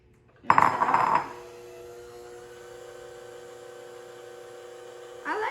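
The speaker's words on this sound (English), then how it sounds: "So you want to tap your mixer to get it, to be clean." A cake mixer tapped against a mixing bowl to knock batter off, a brief cluster of close clinking knocks near the start, followed by a steady low hum with a faint clink at the end.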